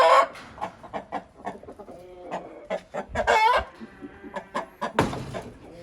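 Hens bought for 135,000 som each cluck and squawk nearby in a backyard setting, a busy run of short, irregular calls with a few louder squawks, close and fairly loud.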